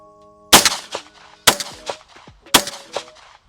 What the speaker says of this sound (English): I'm shooting at 25 yards at a fairly small target down there.